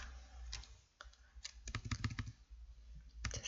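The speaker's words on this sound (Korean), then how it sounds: "타이핑을 하는 시간을 가져볼게요." Rapid, irregular clicking of a computer keyboard being typed on, close and fairly quiet, with bursts of keystrokes separated by short pauses and no voices.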